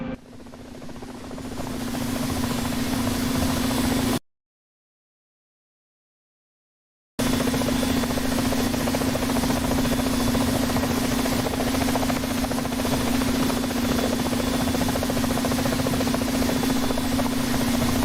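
AH-64D Apache helicopter engine running in the DCS flight simulator, a steady loud turbine whine and rotor drone with a constant tonal hum, broken by a few seconds of silence before resuming unchanged.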